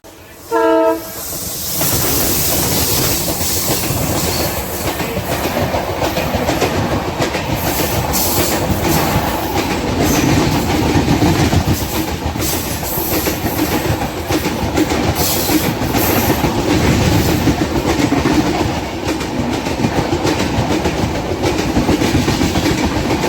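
A horn blast opens, then the 16334 express from Trivandrum Central, heading from Kollam toward Ahmedabad, clatters steadily along the rails, a loud continuous rumble heard from on board.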